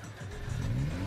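A car engine revs steadily in the video game Project Zomboid, a continuous mid-range drone that rises slightly in pitch and loudness over about a second, with no talk.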